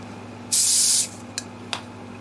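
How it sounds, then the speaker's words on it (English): A half-second burst of hissing aerosol finish accelerator sprayed on a guitar finish near an exhaust fan, followed by two very short puffs, close and fairly loud against a quiet room hum. "I spray the accelerator over there by the exhaust fan"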